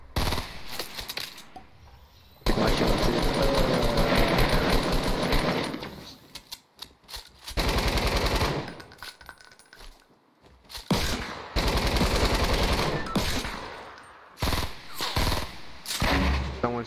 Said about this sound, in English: Someone's shooting at us too.